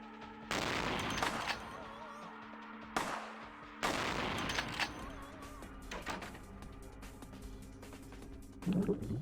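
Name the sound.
shotgun fire in Vampire The Masquerade Bloodlines video game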